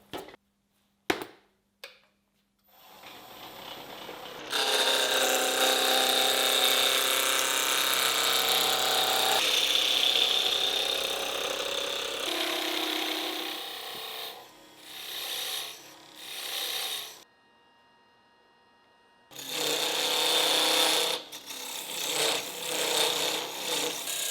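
A wooden war hammer head bolted onto a threaded rod and spun on a wood lathe, giving a loud, steady scraping rasp as the tool cuts, broken by short pauses and near-silent gaps before the cutting resumes.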